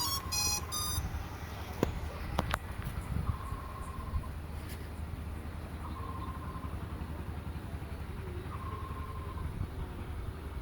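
A K3 Max drone powers on with a quick burst of electronic beeps, followed by single long beeps repeating every few seconds over a steady outdoor background hum.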